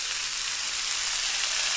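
Tomato and green peas sizzling in a hot kadai: a loud, close, continuous crackling hiss that holds steady throughout, with no voices.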